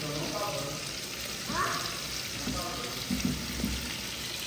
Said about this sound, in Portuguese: temperei o bife com sal, chimichurri, pimentinha do reino e agora eu vou deixar ele selar e vou virar.